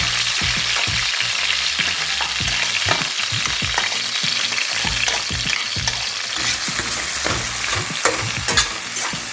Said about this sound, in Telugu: ఇప్పుడు కొన్ని ఉల్లిపాయలు వేసేస్తున్నాను